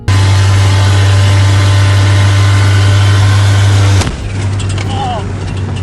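A Jeep fitted with a 1JZGTE engine drones loudly and steadily with a strong low hum for about four seconds, then cuts off abruptly, leaving quieter rattles and a faint background with a brief whine.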